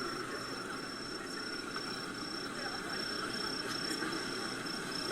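Busy street ambience with steady traffic and engine rumble, a passing motorbike and insect buzz mixed in, continuous and moderately distant throughout.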